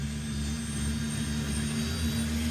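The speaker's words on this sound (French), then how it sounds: "4h15, le capitaine Gwenaël démarre les moteurs." Propeller engines of a military transport aircraft start up and drone steadily, a loud constant low hum with a whining high overtone and no break.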